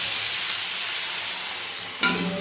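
A small splash of water hits spices frying in a pan, cutting into the soft, steady sizzle with a sudden louder hiss and crackle near the end, close and with no voices.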